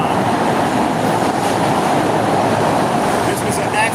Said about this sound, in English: But look at our train stations.